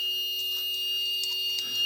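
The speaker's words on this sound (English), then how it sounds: "And for some reason, sometimes it's beeping." A homemade 555 timer circuit built into an ultrasound device gives off a steady, high electronic beep. The tone holds for the whole stretch with faint flutters, and no one speaks.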